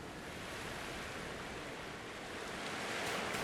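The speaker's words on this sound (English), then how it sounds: "the water always has a loud sound to it" Water in the video game Voyagers of Nera makes a constant, loud ocean-like roar, an unbroken hiss of surf that builds a little near the close, heard alone without talk.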